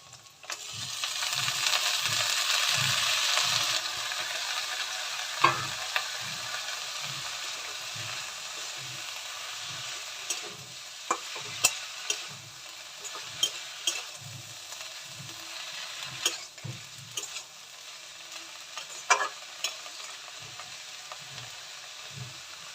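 Bottle gourd greens being stir-fried with fried potatoes in a home kitchen pan: a loud hiss at first, then steady frying with rhythmic scraping stirs and occasional clinks, no voices.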